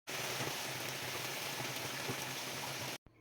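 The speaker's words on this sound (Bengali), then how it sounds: "সামান্য একটু জল দিয়ে দিচ্ছি" Water is poured into a pan of Chinese-style chicken vegetables seasoned with pepper, giving a steady, loud rushing hiss like pouring and bubbling for about three seconds before cutting off abruptly.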